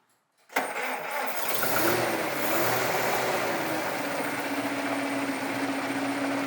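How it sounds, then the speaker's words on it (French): A vintage car engine cranks and catches after a short silence, then settles into a steady, close idle rumble. "Et ce moteur ou cette voiture va démarrer comme ça"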